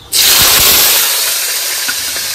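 Cumin seeds and green chillies hit hot oil with a sudden loud sizzle that holds steady as a bright, continuous hiss, with faint crackles and pops underneath, close by.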